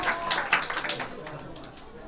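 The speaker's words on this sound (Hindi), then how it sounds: "जोरदार तालियां इसके लिए" Brief burst of clapping from a school audience at an open day celebration, scattered hand claps under a speaking voice that fade after about two seconds.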